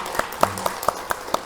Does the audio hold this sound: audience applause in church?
yes